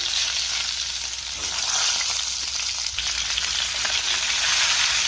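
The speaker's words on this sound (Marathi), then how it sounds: "आता आपण ही वांगी तेलावरती 2 मिनिटं परतून घेऊया" Brinjals sautéing in hot oil with curry leaves and asafoetida for a Marathi khara vanga dish, a steady close sizzle with soft stirring scrapes running throughout, no voices.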